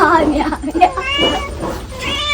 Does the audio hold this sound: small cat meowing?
yes